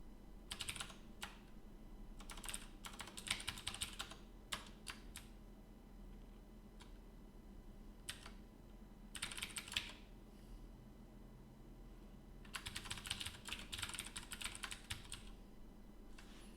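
Bursts of typing on a computer keyboard during a programming session, with clusters of quick key clicks separated by pauses, fairly close and moderately loud over a steady low background hum.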